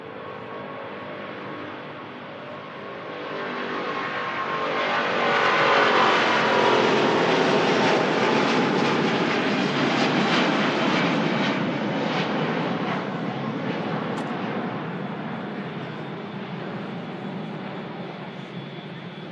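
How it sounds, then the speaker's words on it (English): A Cathay Pacific Airbus A350 taking off from Manchester Airport bound for Hong Kong, a broad jet engine roar that swells to a loud peak and slowly fades as it climbs away. "Here she comes, the Cathay Pacific A350 heading back to Hong Kong."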